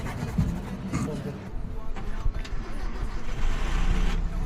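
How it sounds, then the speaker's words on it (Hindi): An old Maruti WagonR engine cold-starting in freezing temperatures, about minus seven degrees: a short crank that catches and settles into a rough, steady idle, heard close up with some background noise. "देखो गाड़ी एक ही बार में स्टार्ट हो गई बढ़िया से।"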